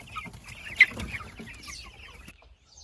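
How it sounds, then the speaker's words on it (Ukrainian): Young chicks cluck and peep softly at close range, a few short calls scattered over quiet background. "Хочу сьогодні вам показати наших курчат"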